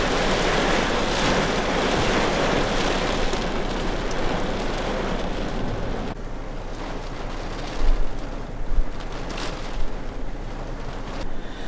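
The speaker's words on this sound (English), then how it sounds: "It's still raining on and off. It's coming down again right now." Steady, heavy rain pours down outdoors in Atlanta, Georgia: a dense, unbroken hiss that eases slightly midway, with a few louder close splashes near the end and no voices.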